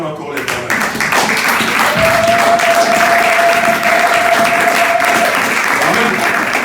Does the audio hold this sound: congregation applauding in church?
yes